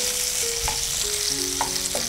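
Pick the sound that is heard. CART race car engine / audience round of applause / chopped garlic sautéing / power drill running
chopped garlic sautéing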